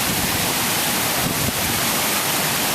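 Water pouring over a dam on the Henry Ford estate grounds, a steady, dense broadband rush with no breaks, loud and close, no voices.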